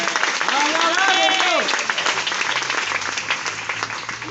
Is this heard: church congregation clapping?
yes